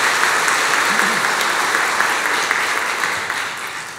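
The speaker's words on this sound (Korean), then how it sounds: "1부, 2부, 3부 너무 좋았는데 박수 한번 볼까요?" A Korean church congregation applauds the choir during a 70th-anniversary Sunday service, a dense sustained wash of clapping that fades slightly toward the end.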